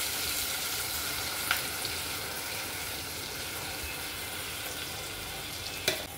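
Shahi paneer gravy fries in ghee in a pan with a continuous, close sizzle and a couple of faint stirring knocks, and no talking.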